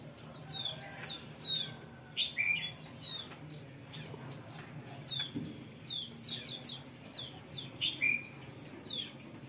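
An Oriental magpie-robin sings a continuous run of bright, sharp chirps and rising whistled notes, close and clear against a soft background hum.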